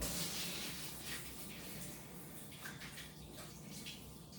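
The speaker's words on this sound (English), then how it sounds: "let me wash my hands" Tap water running steadily into a sink while hands are washed, a continuous soft rushing splash with slight changes as the hands move through the stream, fairly faint and without speech.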